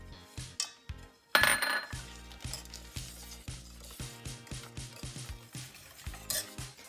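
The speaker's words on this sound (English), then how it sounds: "Now we are going to add our chocolate and whisk it until it's melted." A whisk beats melted chocolate into a cocoa mixture in a metal saucepan, making a steady run of quick, close scraping clinks and taps with short pauses and no speech.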